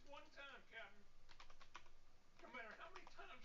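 Keys on a computer keyboard clatter in a quick burst of clicks, set between stretches of talking.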